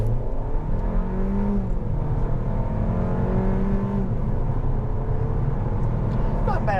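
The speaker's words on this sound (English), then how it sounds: "Not bad acceleration." A 2021 Kia K5 GT-Line AWD accelerates hard with traction control off. The engine drone rises steadily in pitch while people talk inside the cabin.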